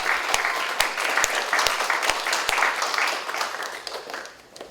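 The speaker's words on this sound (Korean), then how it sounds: "상을 받으신 모든 분들을 위해 다시 한번 축하의 박수 보내드리겠습니다." Audience applause fills a hall at an organization's 40th anniversary ceremony after an awards presentation, a dense, steady clapping with sharp individual claps standing out, fading slightly toward the end.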